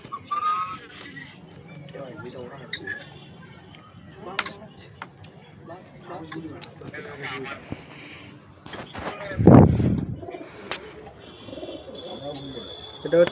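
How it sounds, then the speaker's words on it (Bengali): A female Madrasi pigeon coos softly in short, repeated low calls amid muffled background voices, with a sudden loud flapping-like burst partway through. "এটা হচ্ছে মাদা পায়রা"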